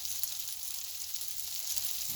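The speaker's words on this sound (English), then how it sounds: "We know it's warm, we can hear that sizzle." Slices of French toast, bread quickly dipped and drained, sizzle in a hot pan, a steady, soft frying hiss that carries on unbroken and alone.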